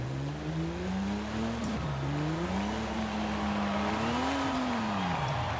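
A Lamborghini Sian's engine revs in Forza Horizon 5, its tone rising and falling through the gears with a smooth, steady drone that stays close and clear, without talk.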